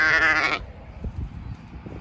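A fleecy ewe awaiting shearing bleats once, loud and close, on a farm, followed by quiet shuffling and low thumps.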